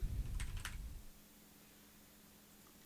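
A short flurry of computer keyboard keystrokes while a name is typed, a few quick faint clicks in the first second, then near silence with a low hum.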